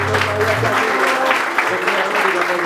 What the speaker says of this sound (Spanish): ese aplauso maravilloso que se escucha